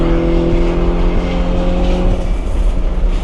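A 2024 Ford Mustang EcoBoost driven hard around a race track, its engine droning loud and steady from close by with a constant rumble and road roar under the throttle, and no talk.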